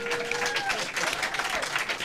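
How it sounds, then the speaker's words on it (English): Audience applause at a Startup Grind Silicon Valley talk, a dense burst of many hands clapping for about two seconds, with voices mixed in. "Wait, let's clap."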